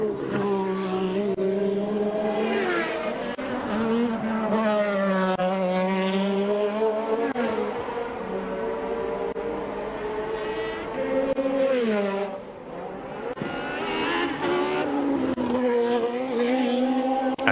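Formula 1 cars from the 1983 Belgian Grand Prix accelerating hard, loud sustained engine howls with rising and falling pitch sweeps as the cars pass and upshift, continuous through the whole stretch with no talk.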